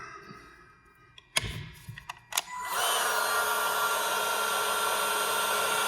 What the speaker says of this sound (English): This heat gun is very safe for interiors, doesn't get too hot.